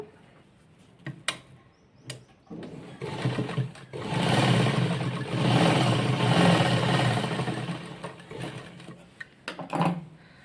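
Sewing machine running in bursts while stitching a double-folded hem on a child's skirt, with a long steady whir in the middle and shorter starts and stops around it, close and fairly loud with no talking.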